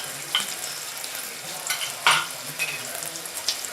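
Finely chopped onions frying in hot oil for a prawn masala, a constant close sizzle broken by spatter bursts and spoon scrapes as they are stirred, with no voices.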